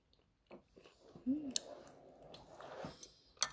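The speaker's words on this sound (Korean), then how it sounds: "일단 한번 먹어볼게요" Someone bites into and chews a blueberry pastry close to the mic, soft squishy mouth sounds with a few sharper crisp clicks, fairly quiet and irregular, with a brief vocal murmur.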